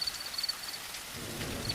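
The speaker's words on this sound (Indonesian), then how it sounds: "Hanya suara mesin truk dan gemerisik hujan yang mulai turun." Rain falls steadily as a soft hissing wash, with a faint low rumble building toward the end, in a horror story scene on a dark road through pine forest.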